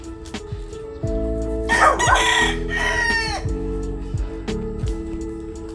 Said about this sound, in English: another rooster on the other side of the farm for some stereo effect